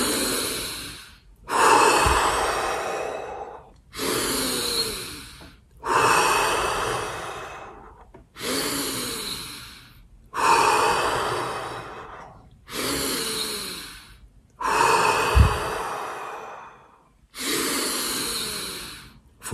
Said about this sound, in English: 5 deep breaths in.